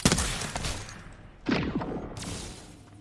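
A full magazine emptied at a video game firing range, a loud opening burst of shots, a pause, then another rapid burst that fades out.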